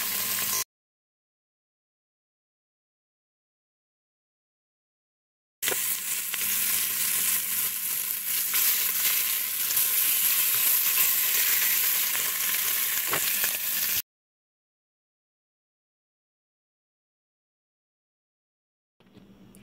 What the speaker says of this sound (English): I'm gonna sear the other two sides and then I'll begin adding the liquid